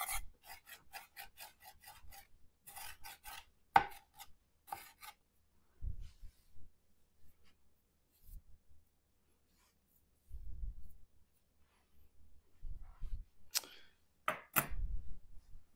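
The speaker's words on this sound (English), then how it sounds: "Got a fine mince out of the onion." A knife minces an onion on a Val Cucina cutting board: quick bursts of crisp, rhythmic taps and scraping strokes, with short pauses of near silence and later a few slower, duller knocks.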